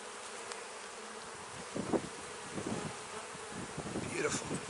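Honey bees buzz steadily around an open hive frame heavy with brood, a close, continuous drone with a few louder swells as individual bees pass near.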